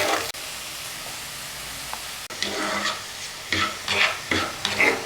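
Garlic fries in a pan until brown, a hissing sizzle that grows busier midway as a spatula starts stirring, with repeated scraping strokes and clatter close by.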